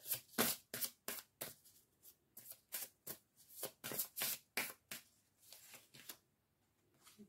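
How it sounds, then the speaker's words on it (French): Oracle cards being shuffled close up, a quick run of crisp riffling bursts in irregular rhythm that thins out near the end, quiet and alone with no talking. "Je vais prendre une dernière carte."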